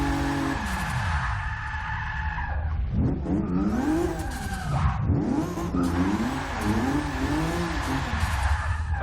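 Single-turbo 2JZ-swapped Lexus SC300 revving hard and downshifting, the engine note climbing and dropping through repeated pitch swoops with tire squeal, loud and close, with no talk.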